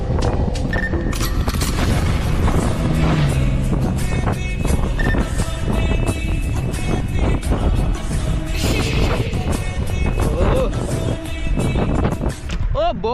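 A motorbike engine roars loudly and steadily through a long wheelie stunt on a road, with heavy wind buffeting the microphone and a rising whine near the end.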